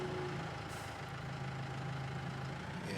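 A small open-top tractor in Farming Simulator 22 idles with a low, steady engine drone throughout, a constant rumble with no pauses or talking.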